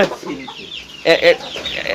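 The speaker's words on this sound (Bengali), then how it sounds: "দর্শক আমরা কিন্তু দেখছি সুন্দর সুন্দর মুরগি" Fancy ornamental chickens on a farm raising colourful hens and roosters cluck loudly nearby, with a strong burst of calls near the middle and softer clucking around it.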